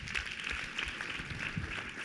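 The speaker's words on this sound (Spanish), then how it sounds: "Un aplauso para Guillermo Tenner." Audience applause for Guillermo Tenner at a university lecture-series event on media and democracy, a steady even wash of clapping held at moderate loudness for about two seconds.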